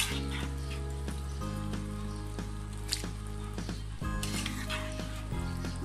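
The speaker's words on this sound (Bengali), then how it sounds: "এবারে এর উপরে আমি যে মাংসটা আমি রান্না করে রেখেছিলাম ওটা দিয়ে দিচ্ছি।" Cooked beef being added onto rice in a pot for Dhakaiya beef tehari, with steady sizzling and soft stirring, squishing sounds over a constant low kitchen hum.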